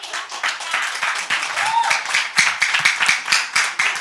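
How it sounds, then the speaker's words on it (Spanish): An audience claps in a steady burst of applause in a church setting, dense and sustained throughout with some cheering mixed in. "un aplauso para su pastora"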